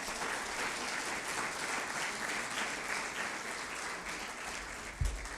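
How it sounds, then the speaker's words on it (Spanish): A church congregation claps together in sustained, dense applause, steady and fairly loud for several seconds with a faint voice beneath. "Dale una fuerte ofrenda de palmas al Señor."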